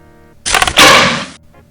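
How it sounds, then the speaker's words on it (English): A game sound effect for a ranged projectile auto attack in Old School RuneScape's Doom Delve, a short loud whooshing burst about a second long set against a quiet tonal backdrop. "This is the sound of the range projectile auto attack."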